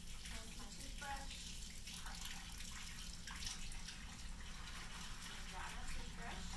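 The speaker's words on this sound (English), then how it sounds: "Rinse my toothbrush." Tap water runs steadily from a faucet while a toothbrush is rinsed during denture care, a close, continuous splashing wash throughout.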